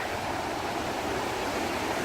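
Blakiston Falls rushes close by as a steady, loud hiss of falling water, unbroken and even throughout with no other sounds.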